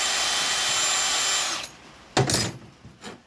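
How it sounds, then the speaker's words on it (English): Worn wire brush scrubbing a Husqvarna G272 chainsaw bar and spiked dogs: a steady loud grinding hiss for about a second and a half, then quiet with a few short sharp scraping bursts. "this wire brush is starting to fall apart, so it's throwing bits of wire out"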